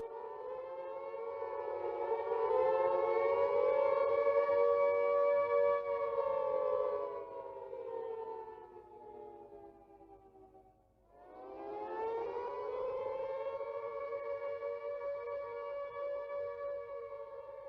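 An air raid all-clear siren from the London Blitz wails as a long, steady tone that dips and fades around the middle, then rises again and holds, fairly distant.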